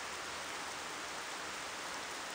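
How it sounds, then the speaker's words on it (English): Steady rain falls in the video game Xenoblade Chronicles, a continuous broadband hiss of drops with no distinct impacts, even and moderately loud throughout with no speech over it. "Oh, rain."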